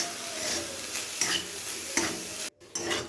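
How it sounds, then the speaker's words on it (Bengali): Banana stem being stirred as it fries with sugar in a pan, a steady close sizzle broken by several scraping strokes of a spoon against the metal, with a brief near-silent gap toward the end. "চিনি দিয়ে এটাকে নাড়াচাড়া করব।"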